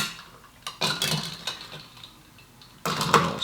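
Spoon stirring an Aperol spritz in a glass, with repeated clinks and scraping against the sides in short bursts, close up, with no voices.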